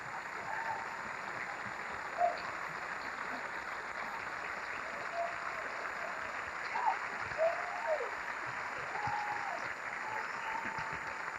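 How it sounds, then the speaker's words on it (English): Steady audience applause fills the hall after a quickstep at a televised ballroom dancing championship, a dense even clapping wash sustained throughout with a few brief louder bursts. "ladies and gentlemen, a nice round of applause."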